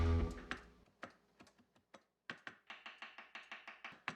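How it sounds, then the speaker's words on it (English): A knife chops fresh dill and tarragon on a cutting board with sharp, close taps, first scattered, then settling into a quick even rhythm of about a dozen strokes. "I chop the dill and tarragon"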